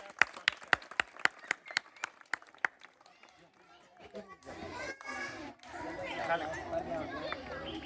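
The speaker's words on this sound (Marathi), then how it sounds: "सर्वांनी टाळ्या वाजवून" An audience at a Savitribai Phule birth anniversary event breaks into a burst of rhythmic clapping, then the applause thins into crowd chatter and children's voices.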